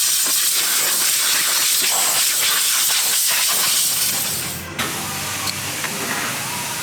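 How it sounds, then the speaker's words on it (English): Compressed air blasts dust off a vehicle air filter box in a loud, steady hiss that runs almost continuously and sounds close, then drops slightly in level near the end. "get your compressed air, give it a clean up"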